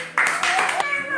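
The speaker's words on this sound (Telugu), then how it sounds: "వెరీ గుడ్, క్లాప్స్ కొట్టండి" Children clap their hands in a short burst of a few quick claps, with a voice sounding over them in the same moment.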